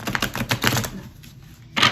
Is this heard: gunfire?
no